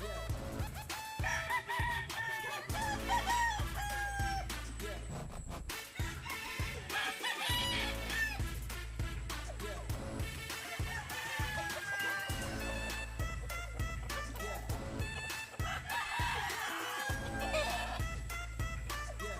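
A fighting rooster crows repeatedly amid clucking chickens and other fowl in a rural backyard, with dense, busy barnyard noise throughout and thudding sounds underneath.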